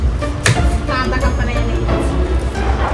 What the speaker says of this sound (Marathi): लसूण आला पेस्ट आणि कांदा कापायला घेतलाय